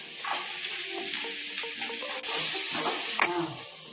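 Chopped onions fry in a pan with salt and turmeric, hissing and sizzling steadily while being stirred, with scraping strokes across the pan and no voices.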